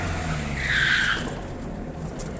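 A Fiat Uno 1N turbo diesel race car with a 1500cc engine braking hard, a loud tire squeal rising for about half a second over the engine and road roar, then fading.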